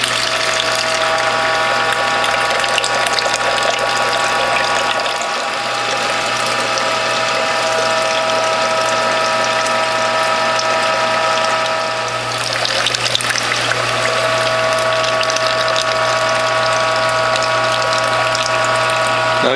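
A Whole Health Foundation juicer press runs while pressing pomegranate and lime, giving a continuous whirring mechanical drone with ratcheting texture that dips briefly twice, close and steady throughout.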